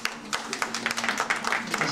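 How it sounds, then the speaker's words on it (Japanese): An audience at a martial-arts event in Nagoya applauds the fighters, with steady, moderately loud clapping under an announcer speaking Japanese. "拍手をお願いいたします。"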